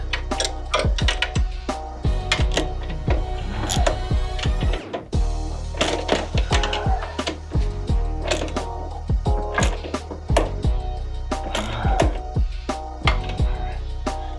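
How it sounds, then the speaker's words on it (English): Wrench tightening a bolt during a 3-inch lift install on a Can-Am Ryker 600, a rapid series of sharp metallic ratcheting clicks and clanks in quick bursts, close and fairly loud, with a short pause midway. "we're gonna take our wrench again, get it on the back side"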